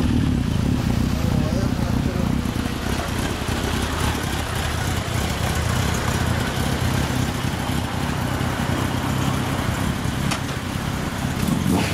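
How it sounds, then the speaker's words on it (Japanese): A 2011 Honda CB1300 Super Bol d'Or fitted with a Moriwaki exhaust runs with a steady, dense engine rumble throughout, close and continuous, while people talk over it. "まだ森脇のエンジンを聞かせてもらおうかな。"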